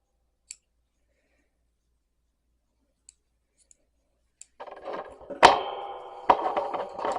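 Scissors snipping yarn ends from a crochet granny square, a few faint isolated clicks followed by close rustling and two sharp, loud snips near the end.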